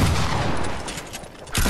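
Gunfire in a video game comes as a dense, loud burst of rapid shots, thinning out in the middle and then swelling back at the end.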